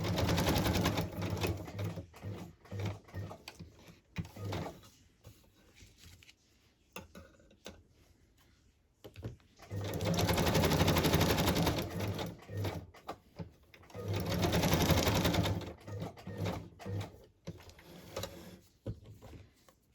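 A sewing machine zigzag-stitches around a small fabric embellishment cluster, running loud and close in long mechanical bursts with pauses between them, with no talking.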